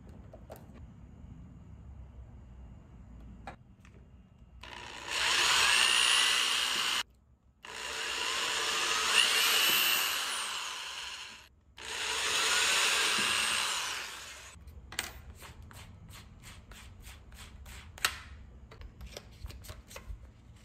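A drill with a Forstner bit bores a hinge cavity into wood in three sustained bursts with short pauses between, followed by lighter knocks and handling noises.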